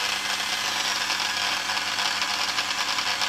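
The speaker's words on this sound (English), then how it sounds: "Get a bit on the buffing wheel." A spinning buffing wheel loaded with polishing compound works scratches out of a watch glass, giving a continuous, loud, gritty whirr with a slightly fluttering texture and no talk.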